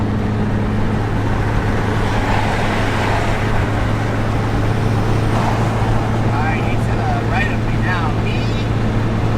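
Dodge SRT8 car cruising in fifth gear, a steady loud road and engine drone filling the cabin throughout, with a person talking over it.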